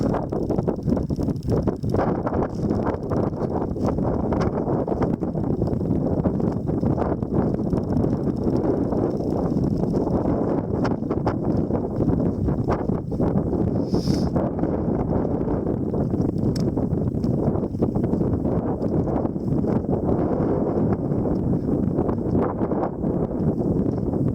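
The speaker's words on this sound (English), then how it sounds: "Some wind for you." Steady wind roars and buffets against the microphone throughout a descent from a mountain summit at moonlight or sunset, loud and continuous with no pauses.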